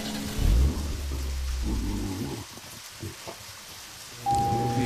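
Rain falls steadily in the Deadly Premonition video game while a car sits open with no roof, with a continuous broad hiss and low rumbling bursts throughout.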